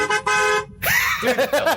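A car horn honks in two sustained blasts with a short gap, loud and close, followed by a burst of reaction and laughing voices.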